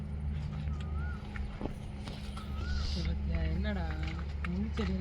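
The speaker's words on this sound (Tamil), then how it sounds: "பறவை சத்தம் எவ்வளோ அழகாக கேட்குது" Birds chirp and whistle in short, bright calls outdoors at a plant nursery, moderately close, over a low background hum and occasional shuffling sounds.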